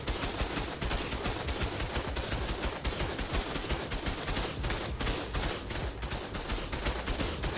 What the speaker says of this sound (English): Not a surprise, getting shot by 2 heavy turrets.